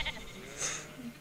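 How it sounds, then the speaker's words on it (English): A single goat bleat rises briefly in the middle, faint and somewhat distant, played as a sound to be guessed with quiet background noise around it. "Goats sound like that too."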